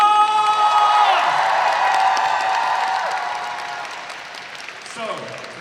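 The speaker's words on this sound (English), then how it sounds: "Please give them all a round of applause!" An audience at a cosplay masquerade and crown championship in Birmingham breaks into loud, sustained applause with scattered cheers and whoops, then the clapping gradually thins out and fades toward the end.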